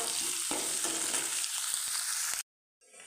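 Beetroot pickle mix with garlic and ginger frying loudly in a pan with steady sizzling and a few stirring scrapes, cutting off abruptly near the end before a quieter sizzle returns.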